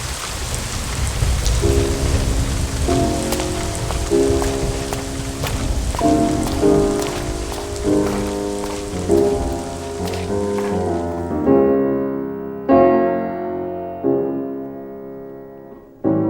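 Heavy rain pours steadily with rumbling thunder in a period drama about Beethoven, while piano chords ring out over the storm; the rain and thunder fade near the end, leaving the piano notes alone.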